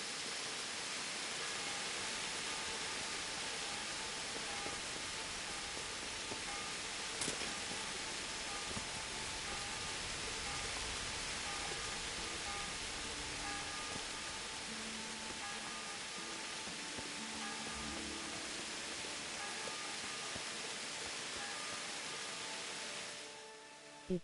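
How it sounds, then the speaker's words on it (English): Steady, broadband hiss of rain falls continuously for a long stretch, even and fairly loud, with no talk, then cuts off at the end. "It's still raining?"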